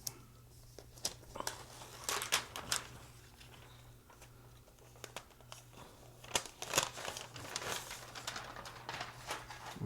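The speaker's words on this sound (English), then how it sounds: "let's try to unwrap it here" Someone unwrapping the packaging of a MacBook Air makes close crinkling, crackling and tearing of plastic and paper in irregular bursts, loudest near the end, with no voices.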